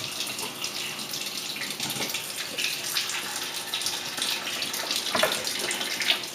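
Ozonated water runs steadily from a kitchen sink faucet into the basin, a continuous close hiss and splash with small gurgling fluctuations and no voices.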